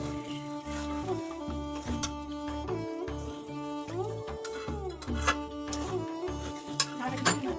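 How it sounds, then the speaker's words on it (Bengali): Chowmein is stirred in a pan in a home kitchen with quick, repeated clinks and scrapes of utensil on metal, close up, over a steady background hum and tonal music. "আমাদের প্রিয়া রানী রান্না করছে"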